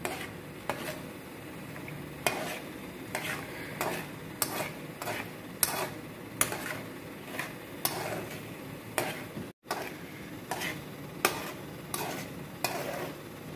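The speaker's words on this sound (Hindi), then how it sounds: "हल्की आंच पे ये जो है ना आयल में ये चीज़ें जल रही हैं" Ingredients cook in oil over a low flame, a soft sizzle running beneath regular sharp clinks and scrapes of stirring in the pan, with no voices.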